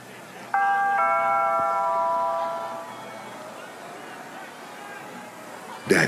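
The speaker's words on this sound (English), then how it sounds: "I'll just ring the doorbell." A doorbell chimes indoors with a clear two-tone ding-dong that rings out and slowly fades, followed by quiet room noise and a brief knock or thud at the end.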